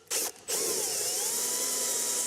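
A power drill boring a single drain hole through the center of a bucket, a loud steady whine with a short break near the start, then a continuous grinding drone with a slowly wavering pitch.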